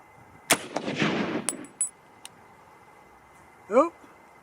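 A single sharp Browning rifle shot in .25-06 Remington cracks loudly near the start, followed by a decaying rumble of echo and a few faint clanks. A voice speaks briefly a few seconds later.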